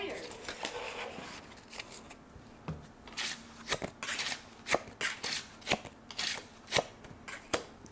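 Playing cards are dealt at a baccarat table, with a series of crisp snaps and slaps of cards landing that grow more distinct and rhythmic toward the end, beneath soft background murmur.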